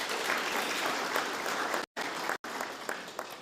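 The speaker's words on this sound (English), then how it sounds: "Clap for yourself." A packed hall at a regional State of the Region address breaks into steady, moderately loud applause, briefly cut off twice by short gaps before the clapping resumes.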